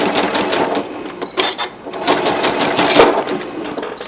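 Steady, fairly loud whirring and rapid needle clatter of a sewing machine stitching a magnet backing, running continuously with slight changes in pace and no pauses.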